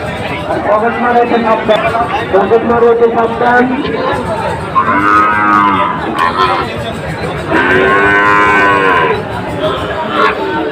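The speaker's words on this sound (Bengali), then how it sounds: "আপনারা দেখছেন খুবই চমৎকার দুইটা সার গরু" Sahiwal bulls lowing at a busy cattle market, several long loud moos rising over constant crowd chatter and nearby talk.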